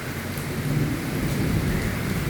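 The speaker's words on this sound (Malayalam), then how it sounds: "ഈ മഴ ശരിക്കും നിന്ന് കൊള്ളണം" Heavy rain pouring outdoors with deep low thunder rumbling underneath, a dense, steady, loud wash of noise with no talk.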